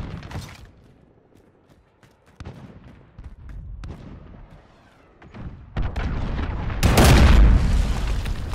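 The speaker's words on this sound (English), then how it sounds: "Enemy cruise missile, take cover!" A cruise missile strike in Call of Duty Modern Warfare brings a series of deep booms and blasts, irregular and building up, ending in one loud, close explosion followed by rumbling debris.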